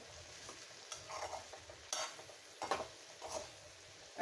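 A utensil scrapes and stirs ivy gourd curry seasoned with chili, coriander-cumin powder and garam masala in a pan, giving soft repeated scraping strokes over a faint low sizzle in quiet surroundings.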